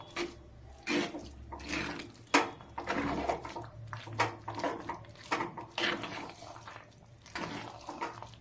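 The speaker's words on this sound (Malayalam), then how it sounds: "വെള്ളം കൂടെ ഒഴിക്കുക." Water is poured into a cooking pot for a banana and horse gram stir-fry, a run of splashing, gurgling bursts with a faint low hum and no talking.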